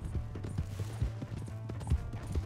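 Horse hooves clip-clopping in Red Dead Redemption 2, a steady quick rhythm of fairly close, moderately soft hoof beats over a low droning hum.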